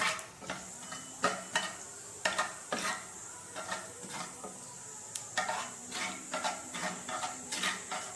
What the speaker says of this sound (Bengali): কালো জিরে দিয়ে ঠিক এইভাবে খানিকটা নাড়তে হবে